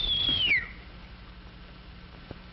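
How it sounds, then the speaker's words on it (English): A man gives a short falling wolf-whistle at a woman, loud and near, sliding downward before fading into quiet room tone. "Did you whistle, sir?"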